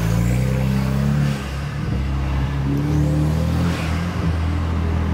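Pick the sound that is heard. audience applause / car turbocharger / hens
car turbocharger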